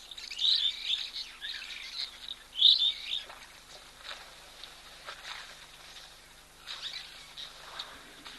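Small birds calling at a waterhole, a few short high chirps and twittering phrases, fairly faint and distant over a quiet outdoor background.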